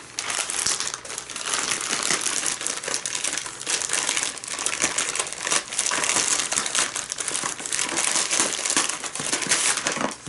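Plastic wrapping on an eBay package of graded cards crinkles and crackles nonstop as it is pulled open, loud and close for about ten seconds.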